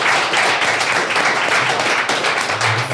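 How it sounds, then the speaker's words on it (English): Loud, dense audience applause for two speakers at the close of a conference session, close continuous clapping that fills the whole three seconds. "Ladies and gentlemen, a warm applause for Bart Schutz and Roger Dooley."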